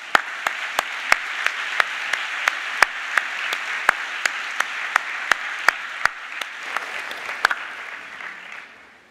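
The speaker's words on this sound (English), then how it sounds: "Please join me in a round of applause." An audience at a graduation ceremony applauds in a steady, dense wash of clapping with a few sharp individual claps standing out, then fades toward the end.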